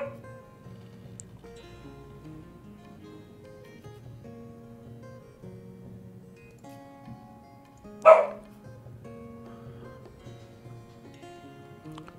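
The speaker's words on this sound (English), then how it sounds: "Something is disturbing my dog." Single dog bark in the video game Divinity: Original Sin, one sharp yelp rising abruptly over quiet melodic game music partway through.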